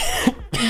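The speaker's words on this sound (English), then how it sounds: "And I'm still coughing." A single short cough from a person who is sick, close and fairly loud, with a brief throat sound just before and a quiet pause after.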